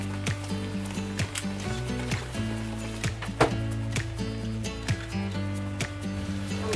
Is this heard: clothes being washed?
yes